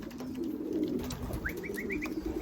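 A pigeon coos in a quick run of soft, rising notes near the middle, with faint chirps and light background noise around it.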